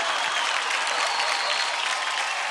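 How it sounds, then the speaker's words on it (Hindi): Dense, steady applause from a large television studio audience at a dance competition show, sustained at full strength for a few seconds with no break and no voices standing out. "उसके लिए हम जोरदार तालियां बजाएंगे ग्रैंड मास्टर के लिए"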